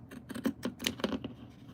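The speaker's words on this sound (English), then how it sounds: "And then I have some pinking shears, which I love. And just cut it just a little bit." Pinking shears snip through fabric in a quick series of short, crisp clicks and chomps, about eight cuts in under two seconds, close and fairly quiet.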